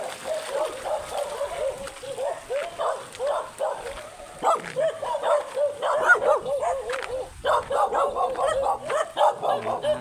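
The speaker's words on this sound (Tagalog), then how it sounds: "Aso." A dog barks repeatedly in quick yipping bursts beside a river, fairly close, with short pauses between volleys and faint background noise.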